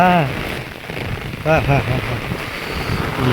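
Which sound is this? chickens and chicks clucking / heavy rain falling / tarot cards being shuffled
heavy rain falling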